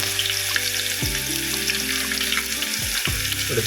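Fennel seeds, garlic and ginger frying in a pan for chicken curry, a steady loud sizzle with some faint clinks and stirring underneath.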